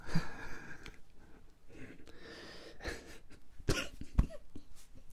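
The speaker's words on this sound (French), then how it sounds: "Tu me fais tousser, pardon." A few quiet coughs and throat-clearing sounds, close and breathy, scattered across a soft background with a couple of sharper bursts near the end.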